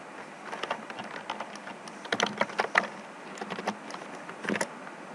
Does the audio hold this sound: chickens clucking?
no